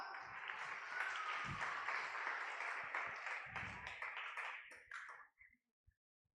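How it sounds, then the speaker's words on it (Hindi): A church congregation at an Easter service claps loudly together in a sustained burst that tapers off near the end into a few last scattered claps, then silence. "ताली बजाएंगे जोरदार।"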